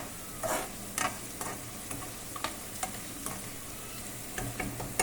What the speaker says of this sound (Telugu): ఈ మిరపకాయలు బాగా ఫ్రై అవ్వాలి స్లో ఫ్లేమ్లో ఉన్న బాగా ఫ్రై అవ్వాలి